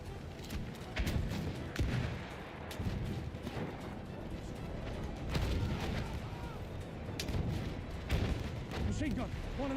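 Battlefield 6 battlefield combat with rapid machine gun fire and booming explosions, dense and chaotic throughout, bursts of gunfire crackling over rumbling blasts while a voice talks intermittently.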